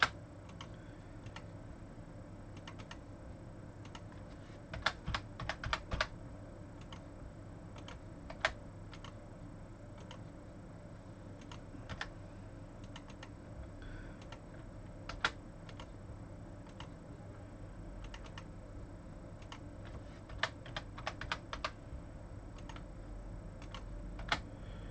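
Keyboard typing while points are set up in Tridium Niagara N4 building-automation software: sparse, scattered clicks and short bursts of keystrokes, fairly close, over a steady low hum, with no talking.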